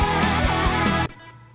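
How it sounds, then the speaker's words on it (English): A punk-rock vocal mix processed through an Arturia plugin emulating an EMT 140 plate reverb. The full sound plays loudly, then cuts off abruptly, leaving a fading reverb tail. "I'm using this plate-140 on the vocal."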